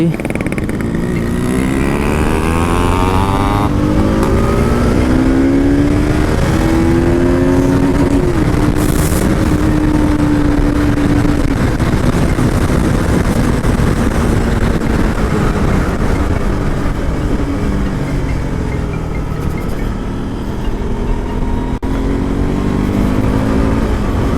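Four motorcycles, an MT, an NS, an RX and an RC, ride together in a group, their engines droning loudly and shifting pitch as they rev and cruise, with wind noise throughout.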